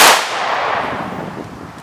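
A single loud, sharp report from several rifles fired together in a ceremonial honor salute volley, followed by a long ringing echo that fades away outdoors.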